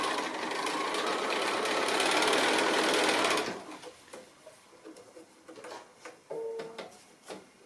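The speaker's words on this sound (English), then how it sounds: "So I'm just sewing the diagonal from one end to the other." Sewing machine runs a diagonal seam across a cushion made from fat quarter fabric, a steady loud whirring stitch for about three and a half seconds that stops abruptly, followed by quieter handling clicks and a brief tone.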